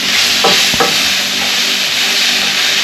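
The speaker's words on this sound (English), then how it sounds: "And then we put the onions and sage in." Onions and sage hitting a hot pan in Sicily, a loud, close, dense sizzle that holds steady throughout, with a couple of quick stirring scrapes near the start.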